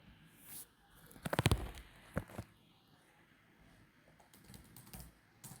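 Code is typed on a computer keyboard, a quick burst of clustered keystrokes followed by a few scattered, softer key taps at close range in a quiet room.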